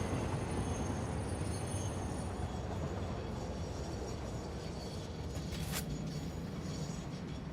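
Train in the Satisfactory factory-building game rolling past in a continuous, steady rumble with a faint wheel squeal, fairly quiet and unbroken throughout.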